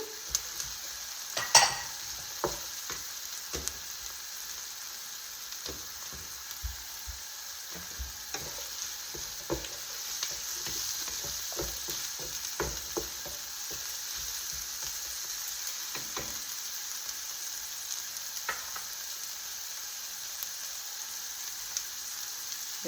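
Peppers and carrots sizzle steadily in a hot pan, with a continuous frying hiss broken by scattered clicks and scrapes of stirring throughout, no voices.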